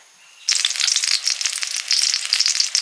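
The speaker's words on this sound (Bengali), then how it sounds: "সেই ব্যাটারে বেসনের ব্যাটারে ডুবিয়ে ডুবিয়ে ভাজছি" Boiled seeded-banana pieces coated in gram flour batter hit hot oil with a sudden loud sizzle after a brief quiet moment, then keep up a close, steady crackling hiss with no talking.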